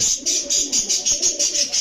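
Long-distance racing pigeons coo in a close, rhythmic series of soft repeated calls, several quick pulses over a brief stretch with no talking.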